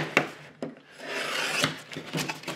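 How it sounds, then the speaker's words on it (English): A sheet of drywall is scored and snapped by hand during a wall repair, giving a few sharp cracking snaps followed by scraping and rubbing of the gypsum board, close and fairly quiet, with no talking. "You can freehand it go ahead and snap that."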